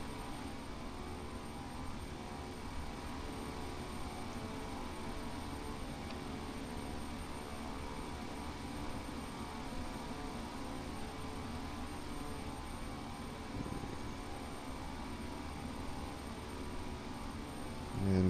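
An airliner rolls for takeoff in the FSX flight simulator game, a steady, loud jet engine roar with broad rushing noise that holds constant throughout with no talk.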